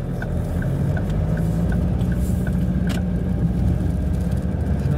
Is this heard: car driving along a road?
yes